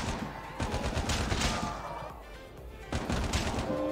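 A pistol fires in rapid bursts during a Call of Duty Mobile zombies raid, loud dense game gunfire that breaks off briefly and then resumes.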